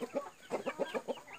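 Roosters clucking in a series of short, close calls at a steady rhythm, with no talk over them.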